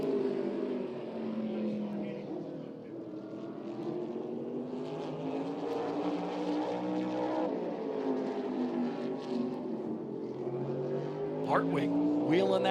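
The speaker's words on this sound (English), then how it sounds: "Hartwig wheeling that car, trying to stay steady around this racetrack." A SMART Modified Tour race car laps Tri-County Speedway, its engine droning steadily with rising and falling pitch as it circles the oval, while a commentator talks over it.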